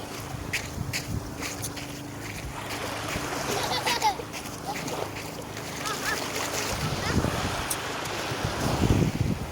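Steady wind and surf wash over the microphone, with occasional splashes and a faint engine hum underneath, continuous throughout.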